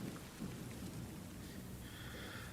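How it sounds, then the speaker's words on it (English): A raging storm in a high fantasy audio drama, with a dense rumble of thunder and steady heavy rain, dim and distant, running continuously with no voices. "Outside, the storm still rages, thunder and rain, lightning and darkness."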